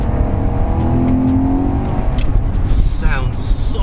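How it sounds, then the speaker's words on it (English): Porsche Panamera GTS engine downshifting in manual mode, revving and falling through gears with a loud, near exhaust note and a sharp blip toward the end. Someone talks over it. "Listen to that downshift."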